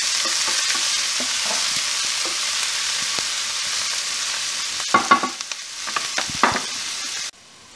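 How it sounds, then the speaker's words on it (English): Onions sizzle in a pan that still holds the residue of cooked meat, a steady close frying hiss. Toward the end a burst of stirring scrapes and clacks comes in before the sound cuts off abruptly. "we just want to cook these onions until they're translucent"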